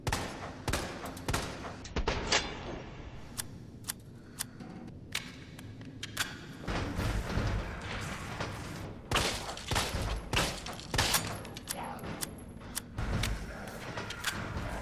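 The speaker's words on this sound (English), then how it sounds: "A very well-balanced 16-shot 9mm handgun." A MUP 9mm handgun, a 16-shot pistol, firing in Resident Evil 3 Remake: sharp single shots with irregular spacing, some in quick runs, loud and close with short tails.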